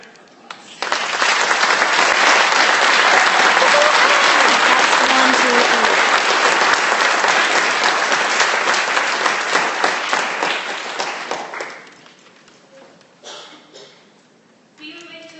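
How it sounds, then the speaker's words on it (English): An audience at a school board meeting breaks into loud, sustained applause that rises abruptly, holds steady for about ten seconds, then tapers off. Scattered voices and sounds follow once the clapping fades. "let's give Mrs. Kaiser a round of applause"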